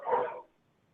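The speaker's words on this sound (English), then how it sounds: "dogs in our house" A single short dog bark in a house, muffled and moderately close, cutting off abruptly into near silence.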